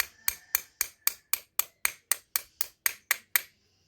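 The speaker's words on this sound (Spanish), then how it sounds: "podemos darle unos golpecitos con un martillo para que entre hasta el fondo." A hammer taps a front brake pad into place on a 2012 BMW F650 GS motorcycle. There are thirteen crisp, evenly spaced metallic knocks, close and clear, and then they stop.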